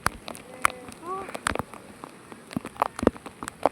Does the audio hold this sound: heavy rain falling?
yes